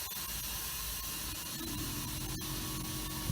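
An air compressor pumps air into a gooseneck trailer's air system. It produces a steady, close hiss and hum that runs continuously, with a faint low pulsing underneath.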